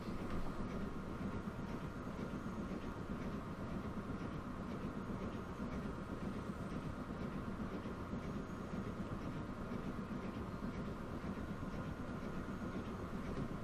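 The Flying Scotsman steam train runs in the Transport Fever 2 game, giving a steady, continuous rumble of wheels on rails with a faint rhythmic clatter, unbroken throughout.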